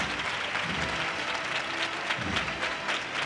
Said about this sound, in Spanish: El público guardando un silencio respetuoso que se rompen a las palmas cuando hacen un esfuerzo, como ahora.